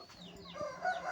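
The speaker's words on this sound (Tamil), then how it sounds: "சேவல்லப்பா வந்து விட்டார்." A rooster gives a brief, faint call on a rural morning, a single short rising-and-falling cry heard from a distance.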